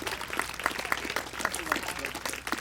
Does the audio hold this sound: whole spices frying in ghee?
no